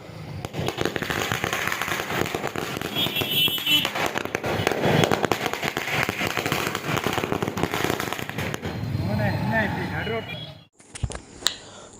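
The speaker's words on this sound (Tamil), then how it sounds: "கோஷம் முழங்க பட்டாசு வெடித்து இனிப்பு வழங்கி கொண்டாடினர்" Strings of firecrackers burst at a street celebration by Tamilaga Vettri Kazhagam supporters in Thoothukudi, a dense, loud run of rapid crackling pops that goes on for several seconds, with crowd voices and chanting mixed in before it stops abruptly.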